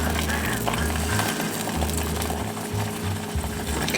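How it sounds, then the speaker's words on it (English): A metal utensil scrapes around a pot of simmering ghee, giving light scratchy clinks over a steady low hum, close by and continuous. "I'm just going to do a preliminary scrape, and I'm not touching the bottom."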